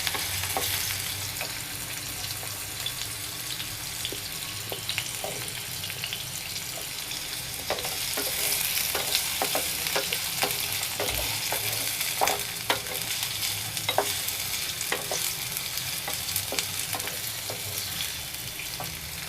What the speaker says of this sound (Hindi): ज़्यादा नहीं करना है, थोड़ा सा फ्राई करते जाना है